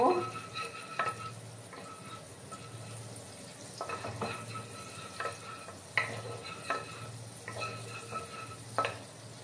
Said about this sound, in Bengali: বাটারটাকে প্রথমে ভালো করে একটু মেল্ট হতে দেব।